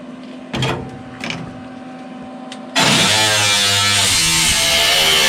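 A thin cutting disc on an angle grinder slices into steel on a 1952 Studebaker 2R5 half-ton hot rod pickup, first a few short whirring bursts, then a loud, sustained, close-up harsh grind as the disc bites into the metal.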